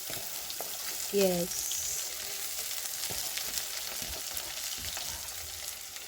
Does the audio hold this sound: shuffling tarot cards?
no